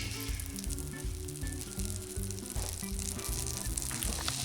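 Butter sizzles in a hot pan for a steamed steak-and-mushroom dish, giving a continuous close hiss with a low rumbling undertone throughout.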